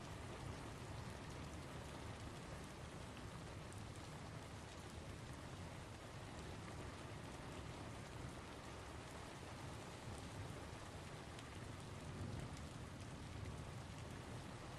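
Steady rain falls in a dense, even hiss that stays constant throughout, fairly quiet and with no voices or other sounds.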